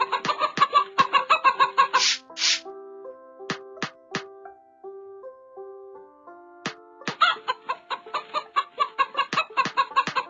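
Bursts of rapid hen clucking open and close the clip, separated by a quiet stretch of simple melodic tones.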